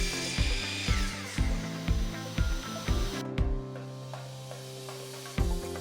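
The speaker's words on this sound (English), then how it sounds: "I thought I'd give my miter saw a test out to see how accurate the 45 degree is" A miter saw cutting 45-degree angled joints in wood for a tea serving tray, heard as a series of short, sharp cutting bursts repeating at a steady pace, fairly close, with a brief high hiss partway through and no talking.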